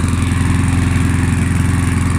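A 1993 Mountfield M4 four-stroke lawn mower engine, bought new old stock and modified over the years, runs steadily at close range with a loud, even, throbbing drone and no talk.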